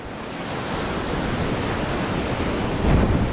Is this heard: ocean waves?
yes